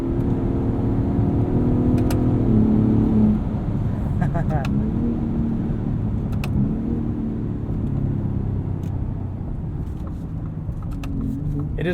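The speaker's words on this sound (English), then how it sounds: "We'll listen to this twin turbo EcoBoost V6." The twin-turbo EcoBoost V6 of a 2021 Ford F-150 Raptor with the 37 Performance Package drones and revs from inside the cab, the engine note climbing and shifting as it pulls through gears in manual mode, steady and moderately loud.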